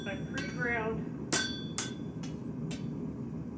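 Hammer forging camp fire iron on the horn of an anvil: four sharp, ringing blows at a steady pace, each one clear over a low background hum.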